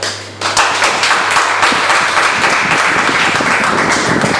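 A church congregation bursts into sustained, loud applause in praise of the Lord, a dense wash of many hands clapping together close by, starting abruptly and continuing without a break.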